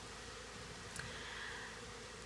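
A caught honey bee swarm crawling over hive frames gives a soft, steady, close buzzing hum with a faint brief whine partway through.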